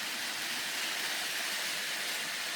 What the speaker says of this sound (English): British train is just going over the Trestle Bridge